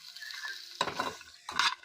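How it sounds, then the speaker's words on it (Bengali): Melon seeds, onion, cashews and tomato fry lightly in a pan, giving a faint sizzle broken by two sharper bursts of stirring scrapes, heard close and without talk. "হালকা করে ওভেনে ভেজে নেব"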